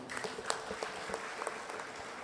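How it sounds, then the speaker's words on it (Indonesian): Audience applause at a regency government open house with civil servants, scattered, fairly close hand claps with distinct individual smacks over a modest, uneven patter. "tepuk tangan buat beliau"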